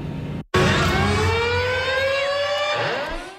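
An emergency siren wails loudly through a sports arena after a brief cutoff, its rising and falling tone steady and close for several seconds with no voices.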